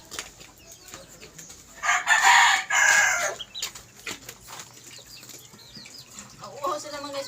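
Farmyard chickens, with a loud rooster crow standing out midway and softer clucking around it, heard outdoors in hot weather over faint background noise and occasional distant voices.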